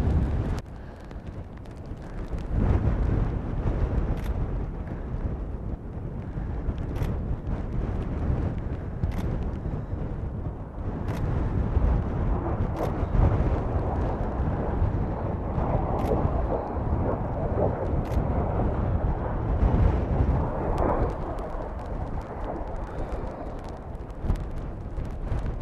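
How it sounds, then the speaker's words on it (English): Strong wind buffets the microphone on an open hillside in the Lake District, a loud continuous low roar that surges and drops for the whole stretch with no voices. "Too windy."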